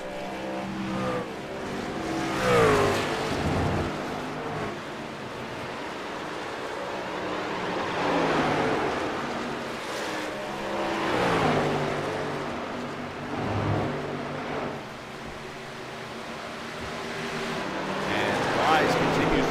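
Racing trucks driven hard around a track produce a continuous engine roar that swells and fades as they pass, with a steady rushing drone. A commentator talks throughout over the noise.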